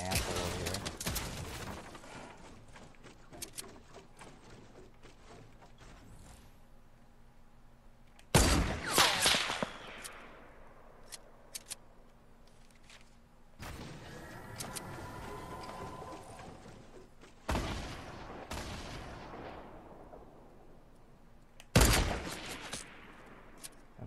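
Enemies firing at the player in a video game: several loud, sharp gunshot bursts with long decaying echoes, spaced apart over quieter stretches of scattered distant shots and ticking.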